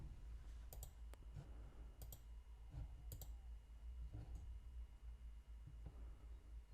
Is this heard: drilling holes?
no